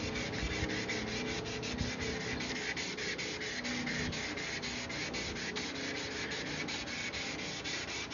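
Sandpaper scrubs a yellowed, oxidized plastic headlight on a 1995 Ford F250 in quick, even back-and-forth strokes, close and continuous with no talking.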